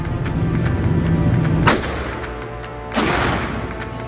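Two loud gunshots at an outdoor shooting range during concealed carry training, with a sharp report near 1.7 seconds and a second about 3 seconds in, each trailing a brief echo over steady background noise.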